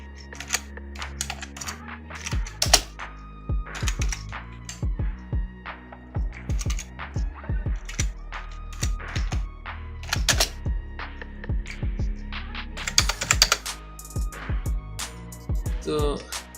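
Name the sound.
typing text on a computer keyboard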